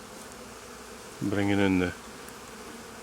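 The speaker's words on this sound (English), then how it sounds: "We've got the bees coming in" Honeybees fly in to a hive entrance carrying pollen, a low droning buzz that swells close by for under a second amid faint background hum, with a brief voice over it.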